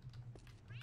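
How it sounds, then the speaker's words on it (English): A house cat gives a short, faint meow close by, rising at the end, over a low steady hum. "No, my kitty, get back here"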